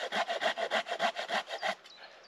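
A hand saw cuts halfway through a piece of wood at a forest hammock camp. About ten steady, even back-and-forth strokes rasp close to the microphone, then stop, leaving quiet near the end.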